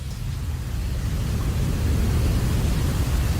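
Steady, broadband hiss of noise fills the whole stretch, even and unchanging, with a deep rumbling low end and no voices.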